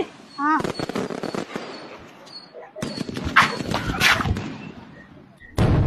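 Sharp crackling bursts and pops of Deepavali firecrackers go off in quick clusters, loud and near, while people shout and talk over them.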